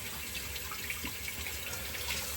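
Hot water runs steadily from a tap onto a shaving brush, a constant hissing splash that holds at an even, moderate level with no voices.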